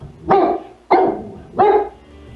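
A dog barks three times in a steady rhythm, loud and close, each bark short and sharp with brief quiet gaps between them.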